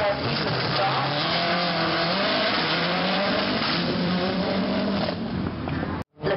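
A Toyota Corolla WRC rally car rips through a chicane and powers down a straight on a rally stage, its engine roaring loud and close with rising revs and tyre noise, before cutting off abruptly near the end.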